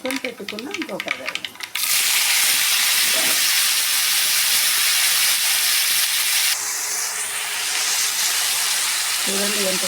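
Boiled cluster beans frying in a pan over seasoned oil, a loud steady steamy hiss that surges suddenly after a quieter start and eases slightly near the end, with a brief voice at the very beginning.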